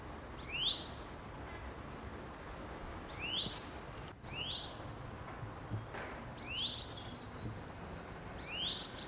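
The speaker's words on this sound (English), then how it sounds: "Here we see a blue tit on its one and only outing to the garden, and he's found the robin's bird bath." Blue tit at a garden bird bath, giving short high chirps roughly every two to three seconds over a steady outdoor background hiss, with a faint rustle midway.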